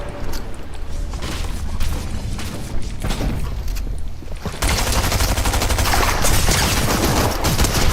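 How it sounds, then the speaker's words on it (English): Flare gun fired in Fortnite, followed by a loud, dense barrage of rapid gunfire and crackling bursts that builds and holds through the second half. "Firing this flare gun."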